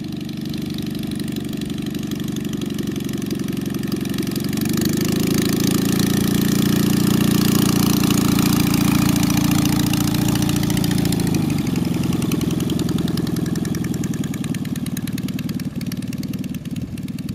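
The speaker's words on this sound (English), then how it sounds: "That sounds like a small tractor. Looks kind of like a John Deere." A small John Deere tractor engine runs steadily nearby, a low, even mid-pitched drone that rises in revs for several seconds midway before settling back, loud and continuous.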